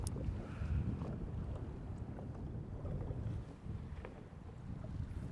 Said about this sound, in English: let me get out of the wind here. Tired of getting blown around.